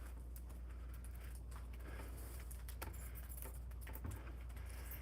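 A bunch of keys jangles in short metallic bursts, fairly faint and close, over a low steady rumble of vehicle or room noise, with no talking.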